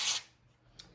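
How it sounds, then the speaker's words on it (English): One short burst of nonstick cooking spray hisses close up onto a foil-lined pan, followed by a brief, fainter puff. "I'm going to take some of this nonstick spray, and I'm going to spray those really well"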